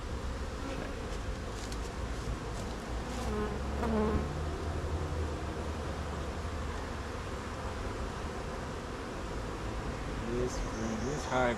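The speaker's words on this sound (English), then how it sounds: "This hive is full of bees." Dense, steady buzzing of honeybees swarming around an open, crowded hive, a continuous close drone with individual bees whizzing past the listener, no voices.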